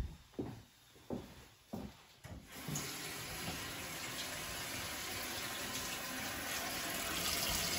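A household tap in a newly bought house is opened to check the hot water: a few short spurts and splashes, then a steady, loud, continuous rush of water into the sink that holds to the end.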